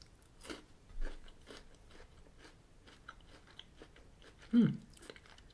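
Chewing a Nestlé KitKat Senses chocolate bar, with soft close crunching bites that recur at intervals and one louder crunch near the end, quiet and with no talk.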